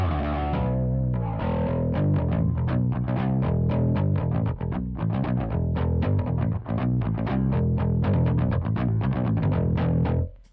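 A bass guitar played through distortion on a Boss GX-100 processor, with a continuous driven, gritty riff of rapid picked notes running loud and close for about ten seconds before a sudden stop.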